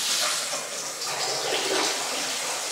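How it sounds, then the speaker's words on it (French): Filtered water streams steadily from a MonH2O filter faucet into a sink, a continuous close splashing hiss with no voices. "Là, vous avez de l'eau filtrée."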